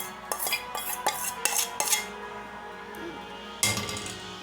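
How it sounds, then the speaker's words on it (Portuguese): A spoon scrapes and clinks against a bowl while mixing ingredients into four cups of wheat flour for sausage-and-cheese dough, with irregular taps and clatters at close range and no talk. "Agora eu vou misturar, né? Isso aqui no trigo."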